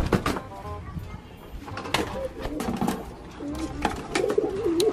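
Local pigeons cooing in courtship, low, throaty rolling calls repeated close by over some rustling and background noise.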